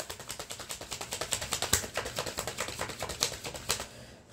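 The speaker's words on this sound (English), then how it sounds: "I really like to make me shuffle this deck" Rapid crisp snapping and riffling of a tarot card deck being shuffled, a long run of quick close taps with a few sharper flicks, ending abruptly.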